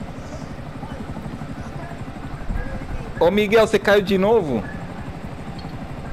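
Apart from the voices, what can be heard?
helicopter in Grand Theft Auto V video game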